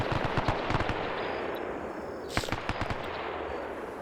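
Bursts of machine gun fire in a World War II style shooter match, a rapid stuttering rattle that starts the clip, pauses, then returns in a louder volley near the end.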